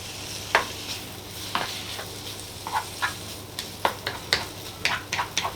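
Strips of bacon sizzling in a frying pan for a bacon, mushroom and cheese omelette, with a steady low hiss and scattered sharp pops and crackles at close range, and no talking.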